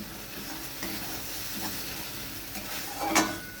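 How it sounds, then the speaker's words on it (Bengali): Ground turmeric, cumin, coriander and chili powder stir-fried in a pan with a steady soft sizzle and repeated scraping of the spoon, ending in a sharper metallic clink. "মশলাটা আমি ভালোভাবে কষিয়ে নেবো"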